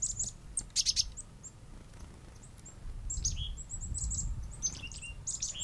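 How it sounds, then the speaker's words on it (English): Black-capped chickadees in an Alberta backyard give faint, high, scattered chirps and short song phrases over a low outdoor rumble, with clusters of calls early and late. "Black Cap chickadees have cheerful songs and are a common feeder bird."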